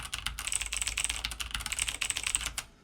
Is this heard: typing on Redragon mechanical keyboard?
yes